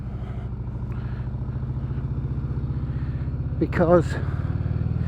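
Harley-Davidson Sport Glide motorcycle riding along roads in the North Downs of Surrey, a steady low engine rumble throughout with a brief louder flutter near the end, while someone talks over it.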